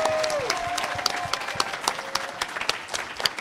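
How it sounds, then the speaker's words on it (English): A hacker conference audience at a talent show applauds, a dense wash of clapping with a few sharper claps standing out, and a brief tone near the start. "Please, a round of applause."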